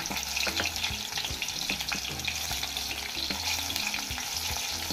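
Crushed ginger and garlic with chopped chillies frying in a hot pan while being stirred, a steady loud sizzle with repeated scraping strokes of the spoon, close up and without speech.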